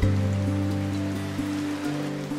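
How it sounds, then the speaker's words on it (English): Steady rain falls during a rainstorm on Bastimentos Island, a broad soft wash of drops on surfaces that holds evenly throughout, with a low hum running beneath it. "It was during a rainstorm,"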